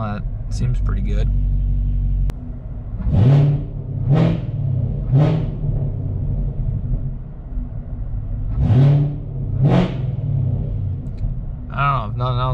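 A car engine fitted with a 95mm LT5 throttle body on an LT2 intake manifold idles with a low rumble, blipped through several sharp revs that rise and fall back, while people talk nearby.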